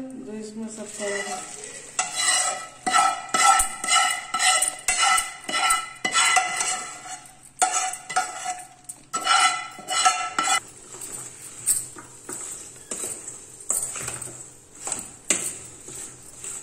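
Spices being stirred into a radish and carrot pickle make a loud, close, rhythmic scraping of a spoon against a metal pan, repeated strokes with faint sizzle-like texture and no talking.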